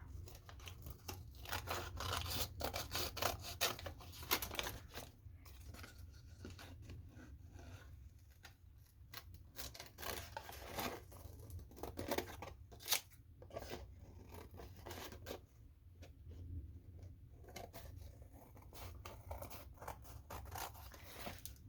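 Continuous close-up snipping and scraping of scissors slicing through stiff cereal-box cardboard, steady crunchy cuts with no talking.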